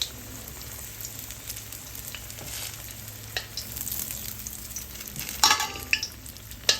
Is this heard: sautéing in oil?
yes